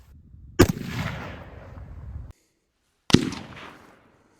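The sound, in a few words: gunshot from Anderson 14.5 AR15 rifle without suppressor, Silent Steel muzzle device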